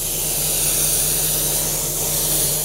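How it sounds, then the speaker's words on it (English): Airbrush spraying silver lacquer base coat over a reproduction steelhead fish: a steady, close, continuous hiss of air and paint with a faint low hum beneath, holding level throughout with no voices. "I'm going to spray silver coat over the whole fish as a base coat"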